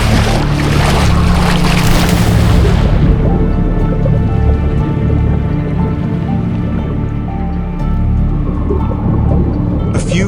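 People running and plunging into cold lake water at a New Year's dive, a loud burst of splashing and churning water that fades after a few seconds into steady lapping and background noise.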